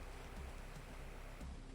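Steady rushing water from a waterfall in the video game AM2R, a constant broadband roar that runs alone, fairly faint and unchanging throughout.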